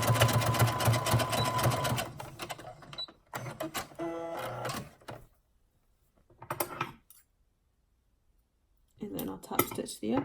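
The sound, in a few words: sewing machine top stitching fabric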